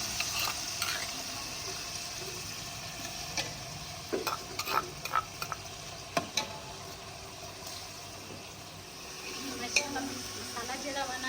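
Onion, tomato, green chili and garlic masala sizzle steadily while frying in a pan, with scraping stirs and scattered clinks of a utensil against metal. The cooking sounds are close, and no voice is heard.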